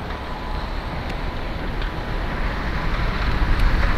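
An electric remote-controlled paddleboard boat motor runs at full throttle outdoors, giving a steady loud broadband whir and rush of water that builds slightly toward the end, with no voices.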